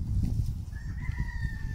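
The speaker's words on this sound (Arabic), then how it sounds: "الديك" A rooster crows on a farm in Misserghin near Oran, Algeria; the drawn-out crow is faint and somewhat distant, rising over a steady low outdoor rumble, with no voices.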